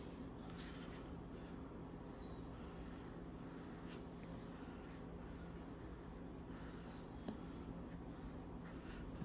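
Pen drawing a caricature's hair on paper, giving a faint continuous scratching of quick strokes against a quiet room background, with no talking.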